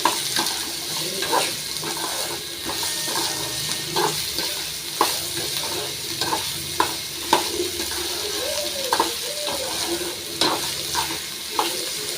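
Onions sauté in hot oil with spices, a continuous close sizzle broken by rhythmic spatula scrapes and knocks against the pan every second or so.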